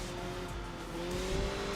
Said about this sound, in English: I like how crazy high this engine revs as well